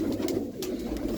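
Pigeons coo in a steady, soft, continuous murmur, with close low throaty calls filling the whole stretch and no talk over them.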